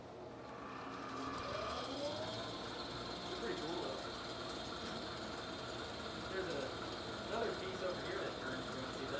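An elevator speed governor runs in an H-W/Smartrise elevator machine room, giving a steady mechanical whir with repeated ratcheting clicks over a low machinery hum, heard close and continuous, with people talking briefly.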